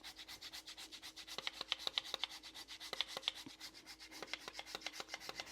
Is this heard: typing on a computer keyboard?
no